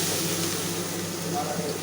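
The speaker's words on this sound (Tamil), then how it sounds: "ஸோ இது கொஞ்சம் நல்லா கொதிக்கட்டும்" A steady, bubbling hiss like a pot at a rolling boil, continuous and fairly close, with no voices.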